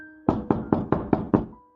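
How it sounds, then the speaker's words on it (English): Six evenly spaced knocks on a cottage door, firm and close, with a faint sustained musical tone underneath. "They don't have a key, so they knock on the door."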